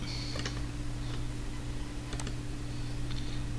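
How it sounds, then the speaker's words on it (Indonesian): Arrow keys on a computer keyboard are tapped a few times, giving sparse, crisp plastic clicks spaced over several seconds above a steady low electrical hum, close up with no talking. "Kita pakai arrow di keyboard."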